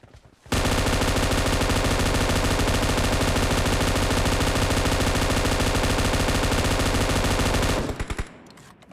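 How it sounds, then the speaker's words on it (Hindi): Rapid automatic gunfire in a shooter video game, a dense unbroken burst of shots lasting about seven seconds, loud and close, then cutting off abruptly. "यहाँ मैं इतनी सारी बुलेट्स मारता हूँ उस एनिमी को"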